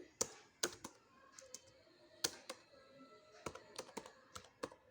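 A school name is typed on a computer keyboard in bursts of sharp, close keystrokes separated by short pauses, with quiet talking faintly underneath.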